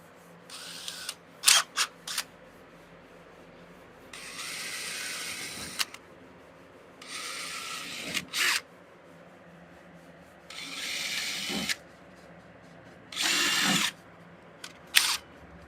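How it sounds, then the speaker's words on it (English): Short bursts of a power drill whirring as it drills holes in a Camaro's body, spaced a few seconds apart, with faint clicks and handling noises in between. "We're just going to go progressively up with the drill bit."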